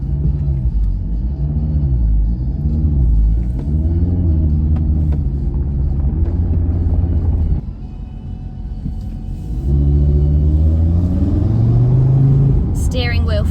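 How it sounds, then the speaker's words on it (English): A high-powered Audi drives with the windows down, its engine loud and close with a deep rumbling note whose pitch climbs and drops through the gear changes, followed by a brief lull and then another strong pull. "Let's get the windows down because we need to be able to hear this car."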